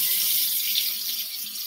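Hot water runs from a kitchen tap in a steady hissing stream, close and continuous with no talking over it.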